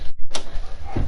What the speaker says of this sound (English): Hold on 1 second, I'm gonna open the door for him.